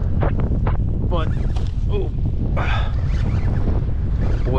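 Strong wind blowing across the water during fishing from a kayak, a steady roar of gusts buffeting the microphone, with someone talking over it.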